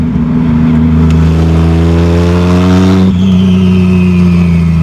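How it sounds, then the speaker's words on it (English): A turbocharged 2JZ-GE swapped into a 1987 Toyota Supra revs loud and close, with a steady droning engine note climbing in pitch and then dropping back after a brief throttle lift near the end. "That turbo's loud. It's loud, dude. That's a pretty big turbo."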